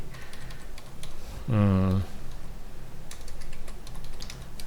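Keys tap on a computer keyboard in faint, quiet clicks, with a brief voice breaking in partway through.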